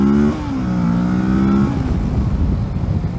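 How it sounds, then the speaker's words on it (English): A 2018 Kawasaki Versys 650 motorcycle accelerates hard, its engine note climbing steadily through the gears before settling into a rougher, lower drone, loud and close with no talk over it. "Let's see the acceleration here."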